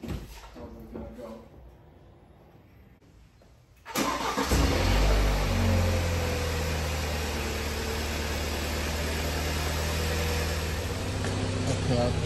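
A 2017 BMW 530i engine starts and settles into a steady idle, a loud sustained low rumble that runs on to the end after a quieter opening with faint speech.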